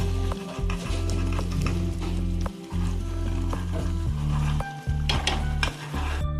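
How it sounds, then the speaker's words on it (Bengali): A spoon stirs ghee into thick, simmering prawn malai curry in a pot, with loud sizzling, repeated scraping and clinks against the pan, and no talking. "এবারে আমি এর মধ্যে এই ঘিটা মিশিয়ে দেবো।"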